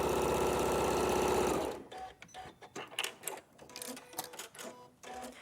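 A sewing machine running fast, a loud steady rapid mechanical chatter for about two seconds that stops abruptly, followed by quieter clicks and handling sounds.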